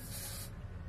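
Dry shampoo hisses from a spray can onto a wig in one short, steady burst that cuts off halfway through, leaving a low rustle of handling close by.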